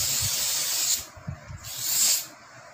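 Botny paint remover sprays from a pressurized bottle onto a painted surface in two loud, close hissing bursts, each about a second long, with faint handling knocks in the short pause between them.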